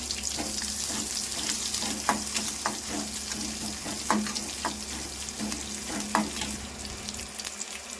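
Fennel seeds and onion tempering in hot oil for a fish curry, a steady sizzle close by with intermittent scrapes and knocks of a stirring spoon.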